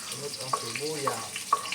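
Onions frying in a pan give off a steady, soft broadband sizzle, with a few brief clinks and stirring taps. A faint voice can be heard in the background.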